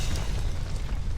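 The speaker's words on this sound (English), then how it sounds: "An explosion! Sounded like it came from right outside." A loud, dense low rumble from an explosion in the video game Aviary Attorney, booming steadily through the whole short moment without any break.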